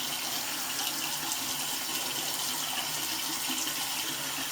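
Tap water running steadily into a bathroom sink during face rinsing, a continuous close hiss and splash without pauses.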